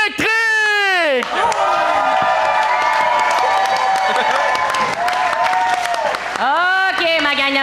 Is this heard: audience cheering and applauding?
yes